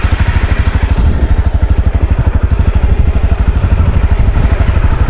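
A motorcycle engine chugs loudly and close on a rough trail-riding route in Cornwall, its rapid regular pulsing steady throughout with no talk.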